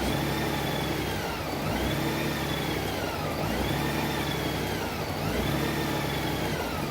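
Honda Goldwing motorcycle engine warming up at about 63 degrees, held at steady throttle yet stumbling, a continuous mid-pitched drone with periodic surging dips in pitch, close and steady throughout.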